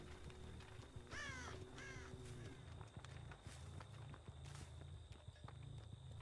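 Two raspy crow caws rise over a constant low ambient rumble and soft footstep-like thuds on the Torment Creek map in the game Dead by Daylight, fairly quiet and slightly distant.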